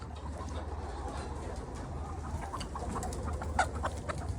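Hen on a poultry egg farm being caught by hand, soft scattered clucks and squawks over a low steady barn hum, with a sharper cry near the end.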